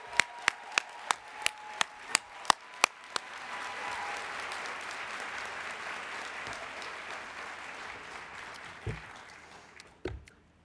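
Audience applause for an award committee at a youth media awards presentation, opening with a few sharp, evenly spaced single claps that swell into sustained crowd clapping and then taper off.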